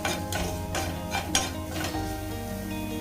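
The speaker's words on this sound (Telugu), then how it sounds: "కొత్తిమీర వేగాక 1/2 స్పూన్ పసుపు, రుచికి సరిపడా సాల్ట్ వేసుకొని మరి ఒక 30 సెకండ్స్ వేగనివ్వాలి" Coriander fries with turmeric and salt in a pan, a soft continuous sizzle with a few rhythmic spoon strokes and clinks against the metal, no voices.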